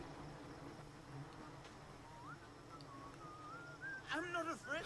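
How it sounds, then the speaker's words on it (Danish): Someone whistles a few rising notes in the video game Far Cry 3, faint under game ambience and a steady insect-like hum, with a louder warbling whistle near the end. "Der er en, der fløjter."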